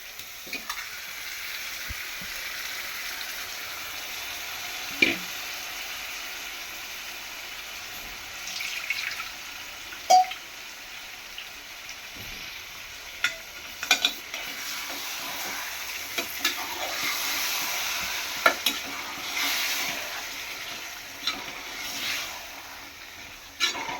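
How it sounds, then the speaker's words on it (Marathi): Chicken being mixed and fried in a pan, a continuous close sizzle broken by repeated spoon clinks, scrapes and stirring bursts, with no voices. "आपण यामध्ये चिकन टाकणार आहोत आणि ते सुद्धा चांगल्या प्रकारे मिक्स करून घेणार आहोत"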